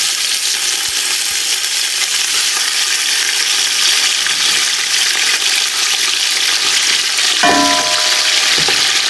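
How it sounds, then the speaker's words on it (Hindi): Mutton pieces fry in the oil left after removing onions for matka nihari, a loud, steady bright sizzle and crackle with a brief clatter of stirring near the end. "प्याज निकाल के जो बाकी ऑयल है उसमें डालेंगे गोश्त"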